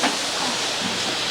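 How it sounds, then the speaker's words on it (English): Steam hisses steadily in a prison laundry, a dense, loud, unbroken rush that fills the whole moment with no voices over it. "This bloody steam's not helping, though."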